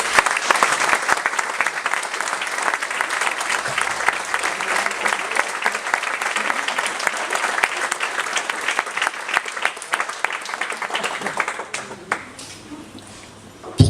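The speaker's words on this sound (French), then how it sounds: "Je vais vous demander de les applaudir" An audience at a pharmacy inauguration in Roubaix claps steadily and loudly for about twelve seconds, then the applause thins and fades out.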